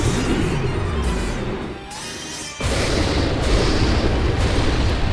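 A huge Big Bang attack animation explosion from the Disgaea 5 video game booms loudly, dips briefly into a quieter rumble, then surges back into a sustained, dense roar of blasts that fills the rest of the clip.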